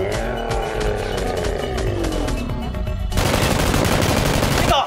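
Toy Nerf guns fire during a mock gun fight, heard as a dense, loud burst of rapid shots over a steady roar of game-like noise, with a harsher, fuller blast of fire in the final couple of seconds.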